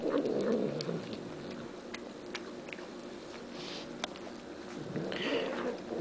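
A cat eating breakfast from a dish, with soft, close chewing and crunching in bursts and a few light clicks, with quiet stretches between them.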